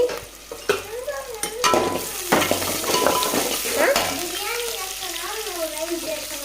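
Onions frying in a pan while being stirred, a close, steady sizzle broken by scraping and clattering strokes, with a voice talking over much of it.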